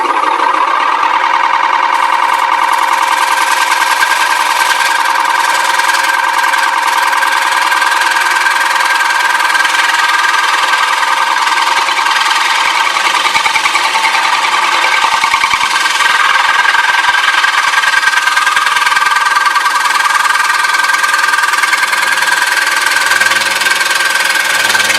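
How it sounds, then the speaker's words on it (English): A chisel cuts the bottom of a wooden bowl spinning on a lathe, a steady close whirring hum with a continuous scraping tone that holds evenly throughout. "I'll use my chisel again to finish up the job here"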